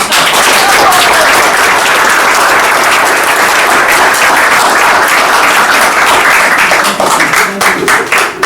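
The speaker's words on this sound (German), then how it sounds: "Also ein kleiner Beifall vielleicht" A crowd at a town twinning celebration in Röhrmoos claps loudly and steadily for several seconds, a close, dense round of applause that thins into scattered claps at the very end.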